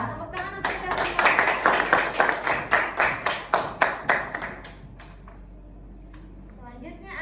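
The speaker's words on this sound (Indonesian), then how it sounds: "Tepuk tangan untuk kita semua." A classroom group claps in a quick, evenly spaced rhythm, a string of loud, sharp unison claps that stops after about five seconds and leaves quiet room noise and faint voices.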